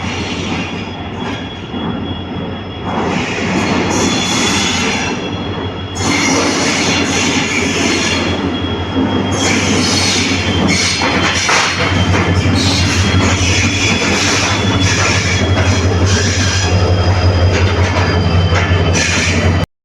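A Mysore to Bangalore superfast express train rumbles loudly and continuously into a station, with metallic squeals and clattering wheels rising over a heavy low roar.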